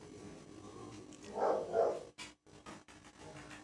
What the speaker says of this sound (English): Wolfie, my puppy dogs are having a field day